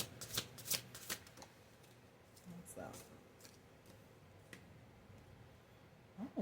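Tarot cards being shuffled by hand in bursts of riffling and soft slaps, brief and close, with quiet pauses between and a faint murmur in the room.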